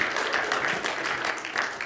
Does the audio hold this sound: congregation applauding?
yes